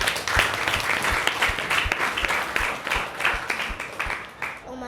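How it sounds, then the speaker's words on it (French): A crowd at a school award ceremony for a student journalism festival applauds steadily, clapping dense and fairly close, with a few voices mixed in near the end. "On va s'applaudir."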